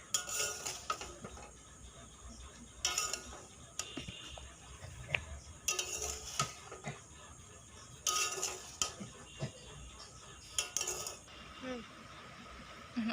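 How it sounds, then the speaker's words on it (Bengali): A utensil scrapes and clinks against a pan while flour-made pasta is stirred and mixed, with intermittent bursts of metallic clatter and quieter gaps in between, close and moderately loud. "সবগুলোকে মিক্স করে নেব ভালো করে নেড়ে চেড়ে"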